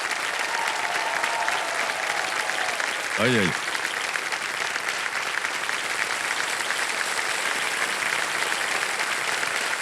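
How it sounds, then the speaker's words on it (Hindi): Studio audience on a Hindi TV quiz show set bursts into sustained, steady applause that fills the room throughout, with a host's voice speaking briefly over it. "ताली बज जाए इनके लिए।"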